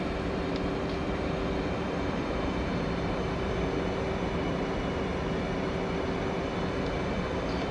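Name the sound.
Hornet jet aircraft taking off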